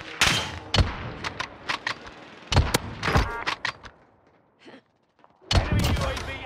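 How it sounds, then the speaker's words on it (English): Precision airstrike in Call of Duty Warzone, a string of heavy booming impacts and thuds in rapid bursts, with a short lull before a final loud salvo. "Allied precision airstrike incoming."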